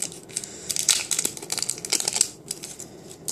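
Packaging on a newly bought card is peeled and torn by hand, with close crinkling, ripping bursts and rustling in short irregular spurts.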